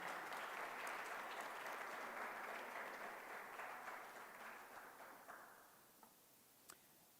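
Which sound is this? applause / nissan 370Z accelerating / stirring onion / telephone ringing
applause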